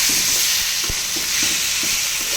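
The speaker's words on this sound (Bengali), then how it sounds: "আবার একটু নেড়ে চেড়ে দিয়ে ভাজিটা করে নিয়েছি।" Pumpkin bhaji being stirred in a frying pan over low heat, with a steady sizzle and soft, irregular scrapes and knocks of the spatula, close and alone.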